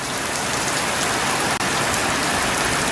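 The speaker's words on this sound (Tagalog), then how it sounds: "wala pa rin tigil yung ulan" Steady, loud rain in Bicol pours down without pause, a dense hiss of drops hitting surfaces throughout, with no voices.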